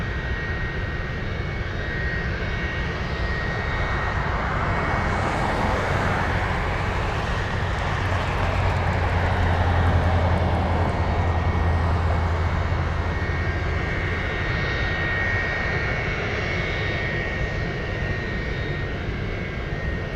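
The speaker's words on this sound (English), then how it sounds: "C-17 out there maneuvering" A Boeing C-17 military transport jet maneuvering at Anchorage airport produces a continuous, loud, rumbling engine roar that swells gradually toward the middle and then holds steady, heard from a distance outdoors.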